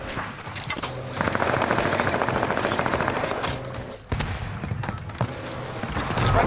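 Sustained automatic gunfire from a first-person shooter match rattles in rapid bursts, loud and close, with a short lull midway before the shooting resumes.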